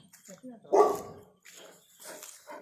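A dog gives a sharp bark close by, with people talking around it.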